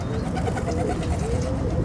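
Roller pigeons coo steadily in a loft, a dense overlapping murmur of many birds close by, continuous and fairly loud throughout.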